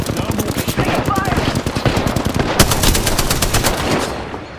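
Rapid automatic gunfire in the video game Apex Legends, dense bursts of close, loud shots over a continuous battle din, with a brief voice line partway through.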